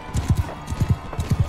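Horse hooves trot in a rhythmic clip-clop in the medieval combat game Mount & Blade II: Bannerlord, steady paired thuds repeating close by with a faint background hum.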